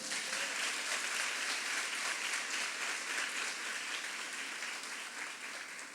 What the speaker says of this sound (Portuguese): dá um forte aplauso a Jesus